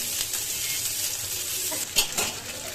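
Fish frying in a pan gives a continuous bright sizzle with soft stirring scrapes, and a couple of sharper clinks or spatters near the end, close and fairly loud with no talk.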